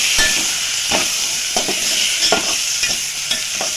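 Finely chopped tomato being stirred into a frying mixture for amti, a loud close sizzle broken by repeated scraping strokes of a spoon against the pan, with nobody speaking.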